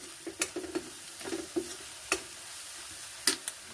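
Spices with coriander powder cooking gently in a pan over very low gas, a faint soft sizzle broken by several quiet scraping stirs and light clicks of a spoon, with no talk.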